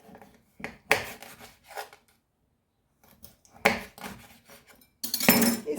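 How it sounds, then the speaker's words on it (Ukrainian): A knife chops raw fish into portion-sized pieces on a board in a few separate, scraping strokes with quiet pauses between them. The cuts are close and fairly soft. "Наріжу порційними кусочками рибу."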